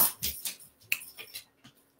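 Dogs playing indoors, scattered scuffles, soft yips and small thumps in irregular bursts, close by, alone without talk.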